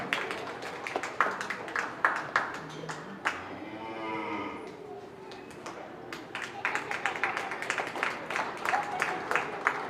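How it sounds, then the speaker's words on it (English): Crowd at a county fair open class beef show applauding a champion calf lineup, scattered clapping that fades into a lull where cattle moo, then picks up again, with a voice talking over parts of it. "Let's give a nice round of applause to select your champion here in this lineup."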